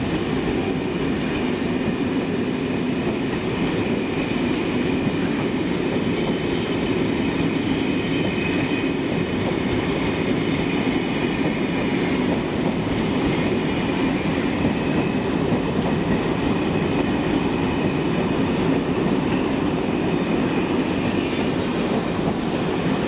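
Trains at Brussels-South railway station: a steady, loud rumble of rolling railcars with clattering wheels and faint squeals, continuous throughout with no talk.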